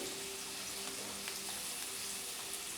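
Potatoes frying in a pan in a home kitchen while a spice mix of tomato, coriander and cumin is prepared: a steady, soft hiss and crackle of oil that runs unbroken throughout.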